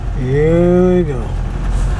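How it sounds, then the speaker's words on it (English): A four-wheeler ATV passes along a rural road in Michigan's Upper Peninsula, its engine note rising and then falling as it goes by, loud for about a second over steady low vehicle rumble. "Oh yes, here comes a four-wheeler."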